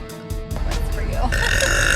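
A young woman gives a long, loud croaking burp close up, the belch stretching and shifting in pitch over a couple of seconds with faint background noise.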